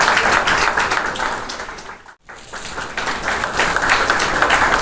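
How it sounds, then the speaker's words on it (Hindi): Audience applause at a talk on mental wellness for elderly people, dense clapping filling the room with a brief hush midway, then resuming steadily. "जोरदार तालियों से"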